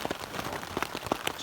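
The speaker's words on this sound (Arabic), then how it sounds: "خلنا نسمعو قطرات الشتا دابا" Rain on a mountainside in Morocco, a soft continuous patter of drops with scattered sharper taps, close and moderately quiet.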